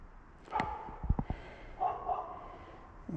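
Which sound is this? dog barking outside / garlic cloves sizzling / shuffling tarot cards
dog barking outside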